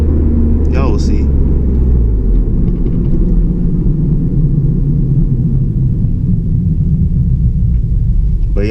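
2009 Honda Civic Si with a Q300 muffler gives a deep, steady exhaust rumble while driving, close and loud, with one brief higher chirp early on.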